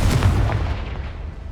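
A Confringo fire spell detonates in the Hogwarts Legacy video game, a single loud, booming blast that rolls and fades over about a second and a half.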